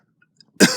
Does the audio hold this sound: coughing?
yes